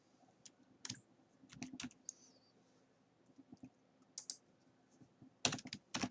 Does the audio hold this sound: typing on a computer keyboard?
yes